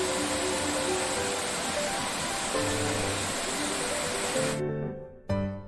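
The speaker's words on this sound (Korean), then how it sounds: "등산로 아래에는 백년폭포의 폭포수가 우렁찬 소리를 내고 흐릅니다" Baengnyeon Falls on Unaksan in Gapyeong roars below a mountain hiking trail, a steady loud rush of falling water that cuts off abruptly near the end, followed by a short burst.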